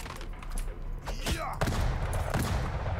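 Heavy, booming hand cannon gunfire in the video game Madness Project Nexus, several loud shots in quick succession with sharp cracks and thudding low ends.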